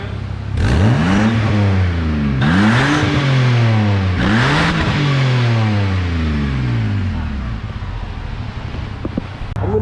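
A BMW E90 with an N1 exhaust and silencer fitted, revved three times in quick succession, each rev rising sharply and falling away, close and loud, then settling to idle.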